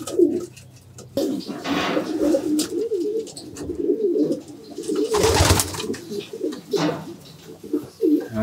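Racing pigeons coo steadily in a loft, soft repeated throaty calls close by, layered over one another, with a brief louder flutter or rustle midway.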